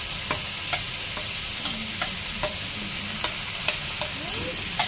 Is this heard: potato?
yes